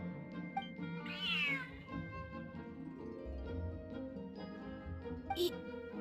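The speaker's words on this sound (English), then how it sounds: "Smart cat." A cat meows repeatedly in the Genshin Impact video game, clear rising and falling cries over soft background music, with a short sharp chime near the end.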